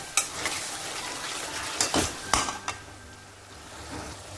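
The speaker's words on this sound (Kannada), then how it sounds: "ಇದನ್ನು 1-2 ನಿಮಿಷ ಫ್ರೈ ಮಾಡಿ." Amla (Indian gooseberries) fry in a pan with a steady soft sizzle, broken by a few sharp clinks and scrapes of a utensil stirring against the metal, close and without talk.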